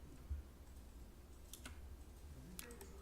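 A few faint mouse clicks, sparse and quiet, close by over low room noise in the Adobe Illustrator CS6 software.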